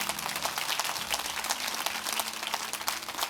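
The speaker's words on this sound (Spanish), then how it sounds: "Dale un aplauso fuerte al Señor." Church congregation applauding strongly, a steady broadband wash of clapping throughout the short stretch with no talk over it.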